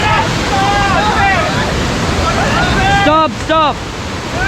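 Water surges loudly and continuously at a Karnataka spot, a broad roaring wash with wind, while several voices shout over it and a pair of short calls stands out near the end.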